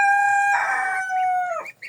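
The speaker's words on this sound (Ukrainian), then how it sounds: "такий неспокійний півень" A restless rooster crows once, close and loud, a sustained harmonic call that breaks and trails off abruptly near the end, with no other voices around.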